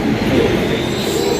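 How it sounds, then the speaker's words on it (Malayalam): The Island Express pulls into Coimbatore Junction with a loud, close, continuous rumble of rolling rail cars and wheels, steady throughout with no speech. "അതിപ്പതാ ചേച്ചിയുടെ ട്രെയിൻ വന്നുകൊണ്ടിരിക്കുന്നു. ട്രെയിൻ വന്ന് ഐലാൻഡ് എക്സ്പ്രസ്."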